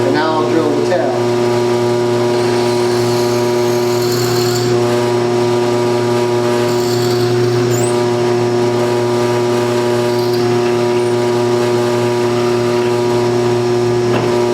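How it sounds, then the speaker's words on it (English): A power drill bores into the tail of a wooden lure plug centered on a guide pin, giving a steady loud whine with a strong hum held unbroken throughout, alone without talk. "And now I'll drill the tail."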